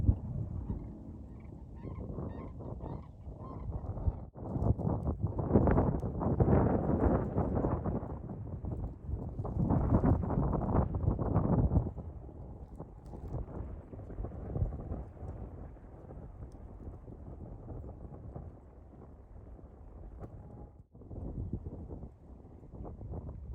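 Wind gusts across open marshland at Whitewater Draw, roaring and buffeting the microphone in strong surges, with bird calls mixed in throughout.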